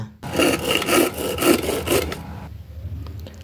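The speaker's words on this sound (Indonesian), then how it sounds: "kemudian pakai gergaji besi aja biasa ya" A hacksaw rasps back and forth through an aerated concrete block in steady rhythmic strokes, close and loud, then stops, leaving faint scraping and handling noises.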